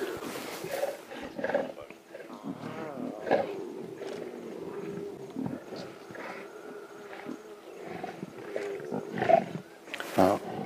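A lion roars repeatedly at dawn on an African safari, deep moaning calls coming in a series at moderate distance, with little talk over it.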